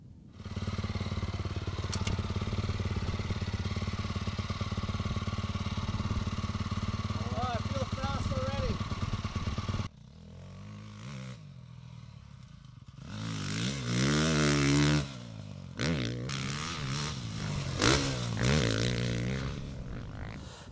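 A 2022 Honda CRF450RWE dirt bike engine runs loud and steady at first, then a voice speaks while the motor keeps going underneath, rising and falling in pitch as it is revved and ridden.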